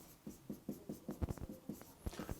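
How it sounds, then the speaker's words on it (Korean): Rapid scratchy strokes of writing on a board during an electrical engineering exam lecture, about a dozen short, rhythmic marks in quick bursts, close and fairly quiet with no voice. "제가 여기다가 한번 이렇게 써볼게요"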